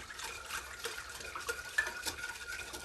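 Spoon stirring a sugar mixture with almond extract in a bowl, a run of quick scraping clinks at an uneven rhythm, close and fairly quiet with no talk.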